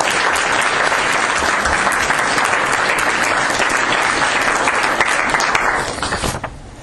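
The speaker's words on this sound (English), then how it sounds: "let's give them all a round of applause." Sustained audience applause at a law faculty gathering, loud and dense for about six seconds before thinning out and fading at the end.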